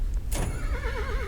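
A horse neighs with a wavering, rising-and-falling whinny after a sharp onset, loud over a low rumble, during a slot-machine horse race in the video game Soul Axiom.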